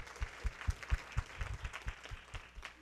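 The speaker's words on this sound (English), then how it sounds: "Can we clap for all the speakers that have come on the stage today?" An audience claps for speakers who have been on stage at a mentoring event, a moderate burst of scattered, uneven hand claps that is fairly faint and thins out toward the end.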